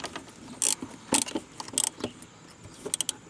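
A Torx 15 screwdriver works loose a broken license plate light screw on a Pontiac Aztek, giving scattered sharp metallic clicks and scrapes, close by, with short pauses between bursts.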